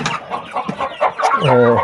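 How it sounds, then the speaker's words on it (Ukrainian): Several two-month-old chickens cluck close by in quick, uneven bursts, ending in a drawn-out, louder squawk. "Дивіться, який гарний півничок."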